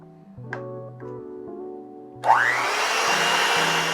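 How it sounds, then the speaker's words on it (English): An electric kitchen mixer starts up and whirs steadily through Christmas cookie dough after ingredients are added, following a few quiet background tones and faint musical notes. "Now after it's all added in, we're going to mix it again."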